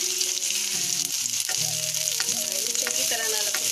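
Bell peppers and vegetables fry in a pan for veg Manchurian, a close, steady sizzle with crackling pops and occasional clinks of a utensil, no voices over it.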